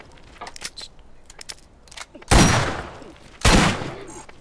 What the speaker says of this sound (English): Look at the fireworks, guys,